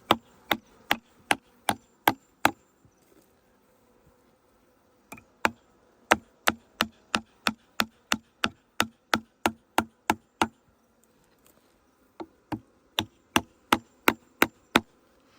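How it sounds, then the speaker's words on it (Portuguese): Hammer blows strike a tree trunk during a bee rescue, landing in fast, evenly spaced bursts of sharp knocks with short pauses between runs, loud and close with no talking. "Por agora a gente ainda usa o martelo"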